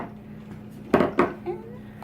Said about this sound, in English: Again, continue mixing until it's all mixed together.